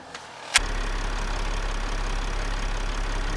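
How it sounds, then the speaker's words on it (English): A diesel generator engine fires with a sharp catch, then settles into a steady, loud, low idle that drones on without a break. "let's fire up the engine and see if she starts"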